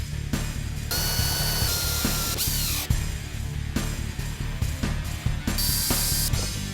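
Ratchet wrench clicking in quick bursts while tightening the supplied bolts on a throttle body spacer in a Chevy Colorado's intake, loud and close, with short pauses between strokes.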